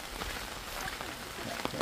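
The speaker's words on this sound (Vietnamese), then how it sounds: "Thôi mưa gió này" Rain and wind on a road during a landslide-prone trip, giving a steady, dense patter of drops with a rushing, hissy wash throughout.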